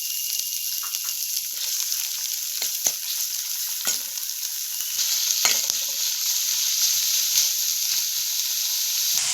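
Masala and chana sautéing in a pan for kadala curry, a steady soft sizzle and hiss throughout with a few faint scraping stirs, no talking.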